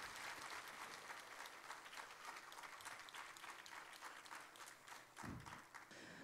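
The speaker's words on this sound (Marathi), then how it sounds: "टाळ्या वाजवूया." An audience at a large Buddhist Dhamma conference in Vashi claps steadily and loudly for several seconds, a dense, even patter of many hands, with a brief low thump near the end.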